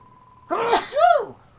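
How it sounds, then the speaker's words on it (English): A game character in Dragon Quest Builders 2 lets out a single sharp two-part sneeze, an inhaled build-up then a loud burst, clear and close against a faint steady tone. "Uh-oh, gotta sneeze."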